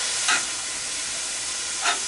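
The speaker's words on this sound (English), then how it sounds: "It just sizzles, it doesn't splatter back at you like it normally does." A constant broad hiss of chicken taco filling sizzling in a hot pan, with two brief louder bursts of crackle; no talking.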